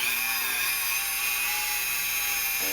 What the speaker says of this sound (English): we're going to go set up the drill press again